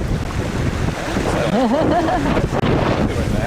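Steady wind roar buffeting the microphone aboard a sailboat on Hickling Broad, loud and continuous, with a brief whistling tone in the middle and no talk.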